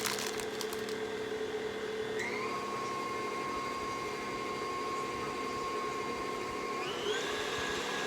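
A mixer whirs steadily through pistachio cake batter, its motor holding a constant pitched drone that shifts up a step twice as the speed changes, loud and close with no talking.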